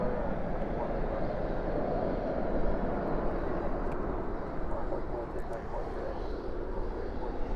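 An airliner landing at night at DFW with spoilers up and thrust reversers deployed, heard as a steady, loud broadband jet roar that holds at an even level throughout without breaks.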